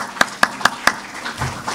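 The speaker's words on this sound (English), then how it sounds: "And a round of applause," Audience applause for Peter at the Rabindranath Tagore literary and social achievement prize ceremony, heard as four crisp, evenly spaced claps close to the microphone, followed by faint murmuring.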